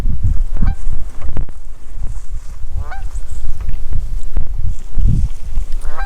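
Canada goose honking beside its nest on a small island, repeated nasal honks scattered through the clip over an outdoor background with faint rustling or footsteps.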